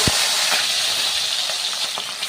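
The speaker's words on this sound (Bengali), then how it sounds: "ওই তেলে আমি চিংড়ি মাছটা ভেজে দেবো" Prawns frying in hot mustard oil in a pan, after potatoes were fried in the same oil for a Bengali banana-flower and prawn dish; a steady close sizzling hiss with a few small pops and clinks, no voices.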